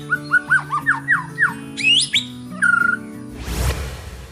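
An oriental magpie-robin, or murai batu, sings loud and clear up close in quick whistled and squawking phrases over a low steady hum, then a burst of noise.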